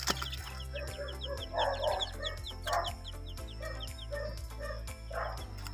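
Chicks peep in a rapid, steady stream of high chirps, with hen-like clucks and a low continuous hum underneath.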